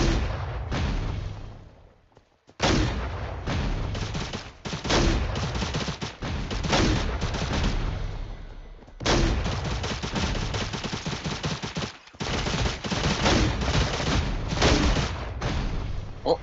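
Rapid bursts of gunfire in the video game Cyber Hunter crackle almost continuously, loud and dense, broken by a few brief pauses before the shooting resumes.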